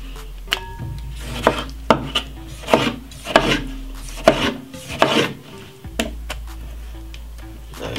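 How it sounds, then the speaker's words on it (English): A knife cuts tomatoes into quarters on a board for a fresh summer salad, giving a series of close, sharp taps spaced about a second apart. "the tomato, I'm just gonna cut them into 4, make them chunky also"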